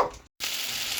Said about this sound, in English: Sizzling nicely.